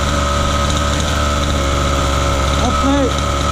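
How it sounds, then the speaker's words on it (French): A 1/5 scale RC buggy's combustion engine idles steadily and loudly up close, a dense buzzing drone with a brief overlapping voice near the end. "Donc maintenant que le moteur tourne."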